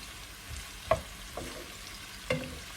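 Strips of carrot and red kapia pepper sautéing in a pan as part of an olive-oil cauliflower and broccoli dish, a soft low sizzle broken by a few clinks of a utensil stirring.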